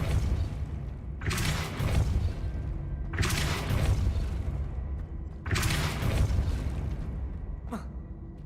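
Three heavy bursting whooshes from the Depulso spell in a Harry Potter video game, each a loud broadband blast lasting about a second, evenly spaced over a constant low rumble, with a brief sharp crack near the end.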